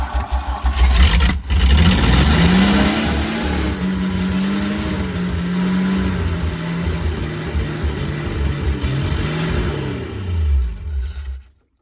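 A 1974 Nissan Caball truck engine runs loudly and steadily at close range, its pitch rising and falling as it is revved several times before cutting off at the end, with no talking.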